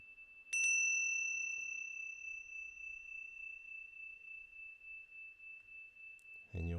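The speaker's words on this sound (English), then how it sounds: "noticing time moving through the sound of the bell." A meditation bell is struck once, its clear steady tone ringing out and slowly decaying with a gentle pulsing shimmer in a quiet room before a voice begins at the very end.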